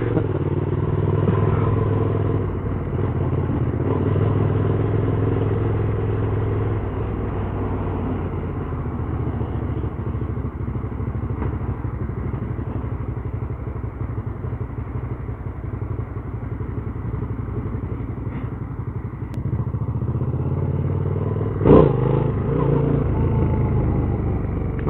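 An Aprilia Caponord 1200 motorcycle being ridden on a road gives a steady engine drone with wind rush and a few knocks and clatters for about 25 seconds, and a brief thump comes near the end.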